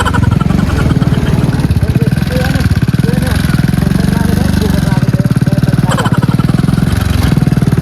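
A motorcycle with no working brakes runs steadily and loudly close by with a rough, rhythmic putter, while voices speak over it.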